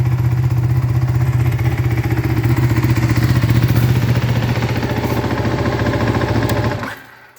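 A Ducati 1299 Panigale R Final Edition with a bespoke exhaust idles with a deep, rapid, throbbing burble for several seconds, loud and close, then cuts off abruptly.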